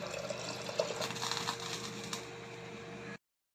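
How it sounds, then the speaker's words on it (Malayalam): Boiled water is poured into rice for fish biryani in a pot, a continuous close rushing pour that stops abruptly after about three seconds, with no voices. "ഇതിലേക്ക് വെള്ളം ചേർക്കാം"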